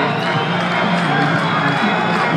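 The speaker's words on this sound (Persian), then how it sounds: "ایرانی های حاضر که مشغول تشویق تیم ایران هستن در فینال جام جهانی کشتی در لس آنجلس سال" Iranian fans in a dense, loud crowd cheering nonstop for Iran's national team at the 2015 Wrestling World Cup final in Los Angeles, a continuous roar of voices and shouts with no letup.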